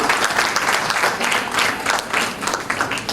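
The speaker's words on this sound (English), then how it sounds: "you see these little faint applauses that we have going on?" Faint, scattered applause from an audience at a primary schools' public speaking competition, a continuous patter of light clapping lasting the whole moment, without speech over it.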